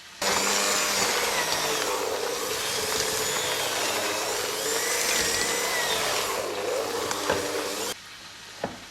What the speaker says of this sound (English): Now we're just going to mix this very slowly until it's just all mixed.